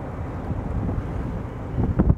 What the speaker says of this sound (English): Yes, it's very windy up here right now.